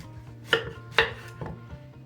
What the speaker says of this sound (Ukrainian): Так, я салеру розріжу на три частини і буду різати такими кусочками.